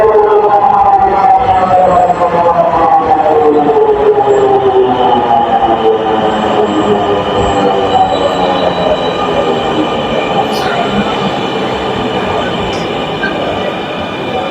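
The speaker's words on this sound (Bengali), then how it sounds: "চলে আসছে আমাদের মেট্রো রেল" A metro train pulls into an elevated station platform with lifts and seating, its loud, steady rumble and descending wheel and motor whine filling the whole stretch, fading slightly near the end.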